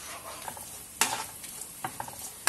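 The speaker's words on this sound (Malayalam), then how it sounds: "ശർക്കര ഒഴിച്ചു അതിങ്ങനെ ഇളക്കി കൊടുക്കുവാണ്." Payasam with jaggery is stirred in a pan for an Onam pancha ratna payasam, a faint soft simmer broken by a few scraping strokes of the spoon, with one sharper scrape near the middle and another at the end.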